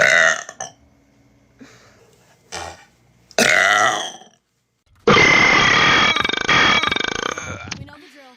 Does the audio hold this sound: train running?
no